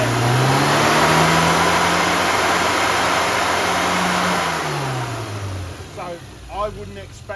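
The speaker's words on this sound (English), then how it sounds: "as I rev it, it should rise evenly" A car engine rises and falls in pitch as it is revved while on the road, loud and sustained, easing off toward the end as a voice speaks over it.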